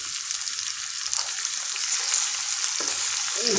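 Steady sizzling of spices frying in a hot pan, a continuous bright hiss with faint stirring scrapes, close and even throughout.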